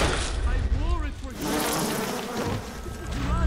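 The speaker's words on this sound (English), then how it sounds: "Enjoy the bees!" Buzzing bees in the video game BioShock, a loud continuous insect drone lasting the whole stretch, with a voice talking over it at times.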